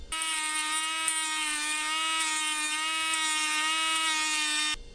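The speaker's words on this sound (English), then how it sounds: "when the Dremel hits it" Dremel rotary tool cutting into a painted fishing lure, a steady high-pitched whining buzz that runs almost continuously close up, then cuts off abruptly at the end.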